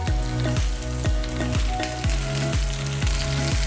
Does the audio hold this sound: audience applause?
no